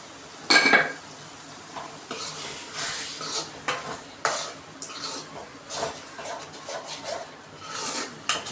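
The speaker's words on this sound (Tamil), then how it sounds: "கரண்டி வச்சு நல்லா மிக்ஸ் பண்ணி விட்டுக்கோங்க." A ladle scrapes and clinks against a metal pot while chana masala is mixed, giving irregular soft scraping strokes and a sharp clink near the start, close by and fairly quiet with no talk.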